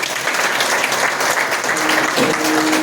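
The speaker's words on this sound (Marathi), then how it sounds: "सर्वांनी एकदा जोरात टाळ्या वाजवा" A crowd applauds at a Varkari kirtan in Alandi, dense continuous clapping filling the space at a steady loud level from start to finish.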